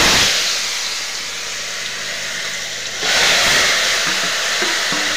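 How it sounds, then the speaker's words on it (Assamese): Pumpkin goes into hot mustard oil: a soft background hiss holds steady, then jumps to a louder, brighter sizzle about halfway through and keeps going. "মই এতিয়া গৰম তেলত দি দিম"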